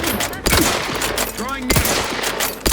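Rapid gunfire crackles in The Outer Worlds 2 video game, with loud bursts of shots, weapon effects and whooshing sweeps over a dense, busy game soundscape.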